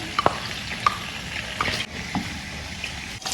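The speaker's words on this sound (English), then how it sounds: "I'll start by adding the palm oil to the pan." Palm oil sizzles and crackles steadily in a pan for a Ghanaian palm oil stew, with a few sharp clinks and scrapes of stirring over the continuous frying hiss.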